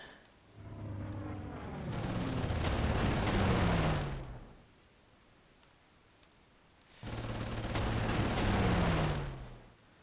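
Gunfire from the Panzer Corps strategy video game comes in two rattling bursts of rapid clicking shots, each lasting a couple of seconds, separated by a quiet gap.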